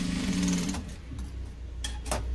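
A sewing machine stitches tucks on a blouse with a steady mechanical whir and hum for under a second, then stops, leaving quieter clicks and faint handling noises close by.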